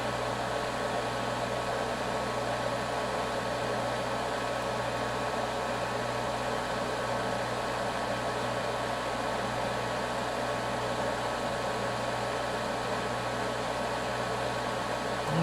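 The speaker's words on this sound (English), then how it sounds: "You can see all the smoke, and it's going right out through the fume extractor" Fume extractor fan of a NOEVSBIG soldering station running, a constant steady whir and broadband airflow hiss with a low hum, unchanging throughout.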